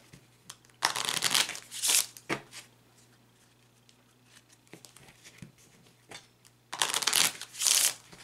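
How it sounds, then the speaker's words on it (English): Two crisp bursts of playing cards being riffle-shuffled, close and clear, with quiet handling noises and light taps in between. "I'm focusing on that question, no pun intended, as I shuffle the cards."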